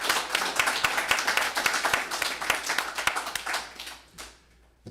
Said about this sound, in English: So let's one more round of applause